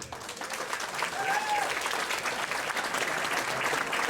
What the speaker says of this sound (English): Let's have a round of applause for Mark Sauvé, everybody.